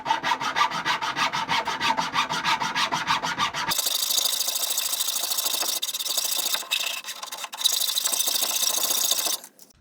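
A hand saw cuts through plywood bench ribs in quick, steady back-and-forth strokes, followed by a harsher, uneven rasping as the cut continues. The sound is close and there is no talking.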